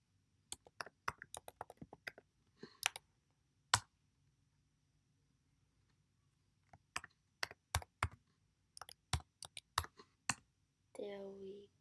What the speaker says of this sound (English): Let me just type my password.